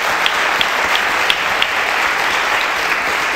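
A studio audience welcomes university student guests with warm applause on an Azerbaijani TV show, a loud, continuous patter of many hands with a few sharper claps standing out, no speech.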